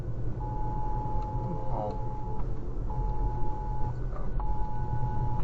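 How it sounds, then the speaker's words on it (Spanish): A series of long, steady electronic beeps from an earthquake early warning in Taiwan, each lasting about a second or more with short gaps, sounding inside a moving car over a constant rumble of road and engine noise. "de repente la grabación registra una serie de pitidos."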